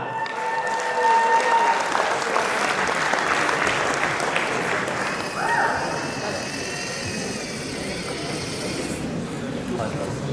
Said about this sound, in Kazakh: Ендеше құрмет қошеметпен қарсы алыңыздар.